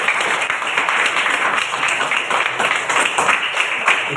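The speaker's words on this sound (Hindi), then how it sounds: "ताली बजाओ आप सभी के लिए।" A classroom group applauding together, a dense, lively patter of many hands clapping at once, steady and fairly close for several seconds.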